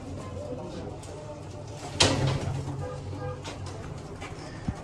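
Pigeons, including Punjabi and Madrasi breeds, coo and shuffle nearby, with a sudden clatter of wings or a cage door partway through, under low background talk.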